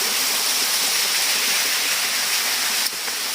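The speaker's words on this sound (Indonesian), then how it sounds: "Nah, itu dia adalah air terjunnya." A village waterfall in a narrow, enclosed spot roars with a loud, constant broadband rush of falling water, close and steady, with no voices.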